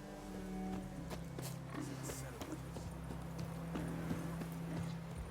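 Horse hooves clip-clop at a steady trot in The Witcher, with game music and ambience underneath and a voice speaking over it, the hoofbeats carrying clearly throughout.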